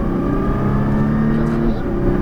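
A Nissan GTR accelerates hard out of a corner on a race track, its engine a loud, steady drone that fills the whole stretch without a break.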